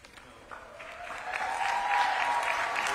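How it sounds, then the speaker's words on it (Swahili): Applause swells at a graduation ceremony of an aviation college in Nairobi, a crowd clapping steadily and growing louder and denser over three seconds. "Makofi tafadhali."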